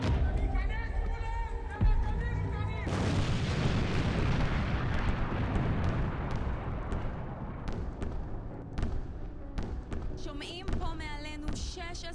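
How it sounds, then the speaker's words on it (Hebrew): Rocket explosions in Ashkelon during a barrage of hundreds of rockets, heard as a dense, continuous roar of booms with repeated sharp bursts, loud and close, with voices audible in the opening seconds. "אחת אחרי השנייה כאן באשקלון, קולות של פיצוצים."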